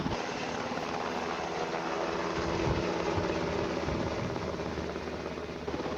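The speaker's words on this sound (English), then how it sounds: "Meet the iconic UH-60 Black Hawk helicopter" A UH-60 Black Hawk military helicopter's engine and rotor drone steadily, a constant loud mechanical roar with a low throbbing hum underneath.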